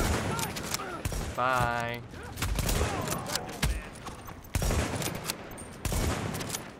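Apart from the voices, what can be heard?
gunfire in the video game The Division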